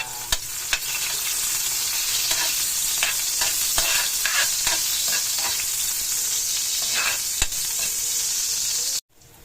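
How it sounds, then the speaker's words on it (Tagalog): Garlic hits hot oil in a pan for ginisang ampalaya with eggs, producing a loud, continuous close sizzle with scattered crackles and stirring clicks, then cutting off abruptly at the end. "lalagyan na natin guys yung ating bawang kasi mainit na yung mantika"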